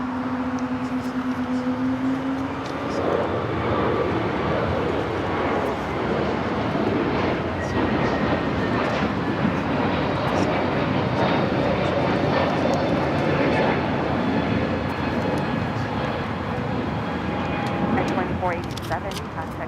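United Airbus A321neo jet airliner taking off from the south side of Los Angeles International Airport, a sustained loud engine roar with a faint whine, steady for the full duration while a voice talks over it.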